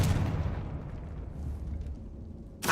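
A Confringo fire-blast spell detonating in Hogwarts Legacy, a loud burst that rumbles and decays over a couple of seconds, followed by a sharp new crack at the end.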